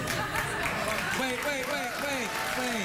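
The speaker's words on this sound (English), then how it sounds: "they're applauding touching your nose with your tongue" A studio audience claps and cheers at a late-night talk show taping, the Late Late Show, as a steady wash of applause under people talking over it.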